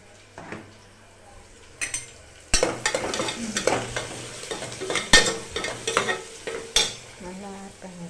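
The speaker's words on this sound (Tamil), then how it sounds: "நல்லா ஆட் பண்ணிவிட்டு அது கொஞ்சம் நேரம் வதங்கட்டும்." Curry leaves sauté in hot oil in a pan, a soft steady sizzle with repeated clanking and scraping of a spoon stirring against the metal, close and irregular.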